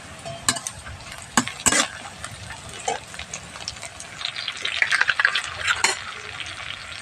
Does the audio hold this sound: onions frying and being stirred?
yes